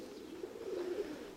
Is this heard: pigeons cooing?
yes